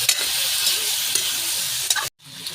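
Tender carabao skin for balbacua is stirred in a pot, giving a continuous close sizzling and scraping stir with a few sharper knocks. A brief silent gap comes near the end before the stirring resumes.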